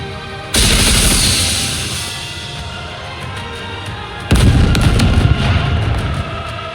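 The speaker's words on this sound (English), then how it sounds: "Missile containers online. Fire." Missiles launching from containers in the video game Goddess of Victory: Nikke: a loud roaring whoosh erupts suddenly and slowly fades, then a second, harsher blast with crackling bursts follows about four seconds later.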